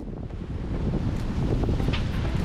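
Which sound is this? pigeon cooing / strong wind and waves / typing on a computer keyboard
strong wind and waves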